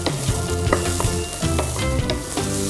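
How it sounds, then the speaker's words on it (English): Onions fry in a pan for a corn samosa filling, a loud, close, continuous sizzle with scraping stirring sounds and no talking. "So the onions soften and they caramelize and we get this lovely flavor inside."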